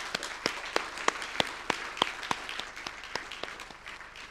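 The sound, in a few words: audience applauding award winners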